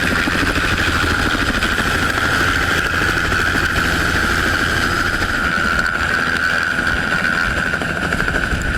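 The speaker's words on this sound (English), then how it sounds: "helicopters are loud" A helicopter drones steadily overhead, its rotor thrumming with a continuous loud buzz and low rumble that holds constant throughout.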